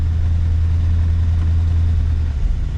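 A 1958 Packard's engine idles in a steady, loud, low drone with an even throb, heard close and without any voices.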